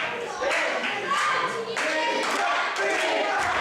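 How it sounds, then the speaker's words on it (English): A wrestling crowd at a DKW Demolition event claps and cheers steadily, a dense wash of applause and shouting that swells in waves throughout. "The crowd's cheering him on"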